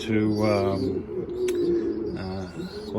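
Pigeons coo in a loft in a series of close, rolling, throaty calls, with a brief chirp in the middle.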